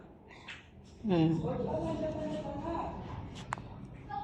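A neighbour's plump cat gives a drawn-out, wavering meow close by indoors, loud against quiet room noise, followed by a faint snort and a sharp click.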